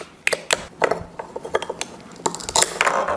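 Light plastic clicks and soft chopping taps repeat irregularly, with small scraping knocks of a toy knife cutting a play dough carrot on a play surface, close and fairly quiet.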